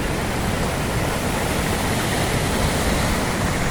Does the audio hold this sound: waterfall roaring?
yes